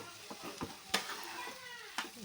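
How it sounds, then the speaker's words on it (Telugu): Tomato rice with gravy being stirred in a pan, soft scraping strokes and a faint sizzle, quiet and close with a few louder clinks of the spoon against the pan. "ఇలా మొత్తం కింద నుంచి పై వరకు బాగా కలుపుకోవాలి"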